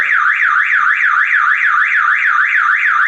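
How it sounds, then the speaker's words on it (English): A car alarm wails loud and close, a continuous electronic siren sweeping up and down in a fast, regular cycle with no pauses. "this car's alarm is working"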